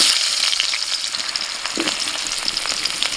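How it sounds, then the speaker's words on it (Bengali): Potatoes fry with salt and turmeric in a pan, giving a steady, close, hissing sizzle with the occasional crackle and no talking. "এখন আলুটাকে একটু লবণ হলুদ দিয়ে ভেজে নেব।"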